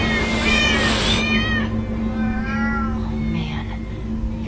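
Cats meowing in the Minecraft Story Mode video game, several close, drawn-out mews in a row over a steady low hum and background music.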